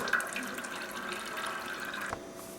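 Coolant drains from a Kawasaki KLR 650 motorcycle in a steady close trickle with faint drips. A sharp click comes near the end, and no one speaks.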